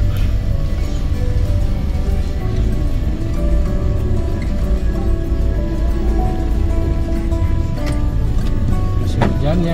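Rain falling in slow, congested traffic on a Garut street, with a steady wash of rain and car engines close by and a few brief horn-like tones near the end.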